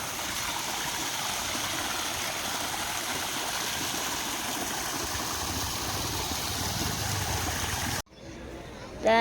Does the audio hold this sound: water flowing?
yes